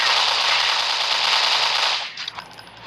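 Rapid automatic gunfire from a first-person shooter video game roars loud and continuous for about two seconds, then breaks into a few scattered shots and fades, with no voices.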